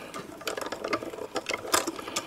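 A die-cutting press for slimline holiday sweater border dies is cranked slowly, giving a close, quick run of small clicking ratchet-like ticks.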